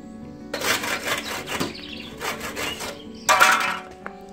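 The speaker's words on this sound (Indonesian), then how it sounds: "Tinggal kita potong saja dengan gergaji." A hand saw rasps through wood in three separate bursts of strokes, close and moderately loud, with brief pauses between them.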